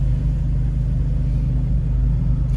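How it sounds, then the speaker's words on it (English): A 2018 Fiat 124 Spider Classica with a six-speed gearbox cruises along, its exhaust giving a steady, loud low rumble and burble throughout, with no distinct pops standing out. "you probably hear some of the exhaust burbling and cracking back and everything like that"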